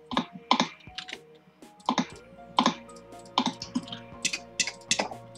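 Fast, uneven typing on a laptop keyboard, crisp clicks in quick bursts with brief pauses, close up and without voices.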